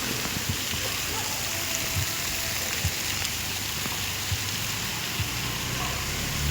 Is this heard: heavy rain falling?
yes